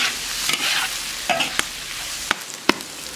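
Garlic and ginger drop into hot oil in a wok with bamboo shoots and pork intestine, giving a soft sizzle broken by sharp clicks of a spatula stirring, close and brief, no talk.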